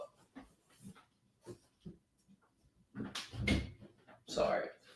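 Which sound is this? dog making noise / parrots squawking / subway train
dog making noise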